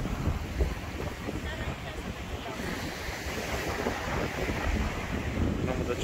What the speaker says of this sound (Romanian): Mamă, dar ce vânt e.